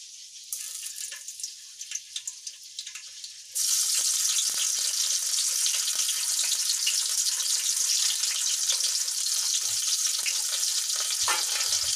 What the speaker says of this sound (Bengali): এগুলোকে আমি লাল লাল করে ভেজে নেব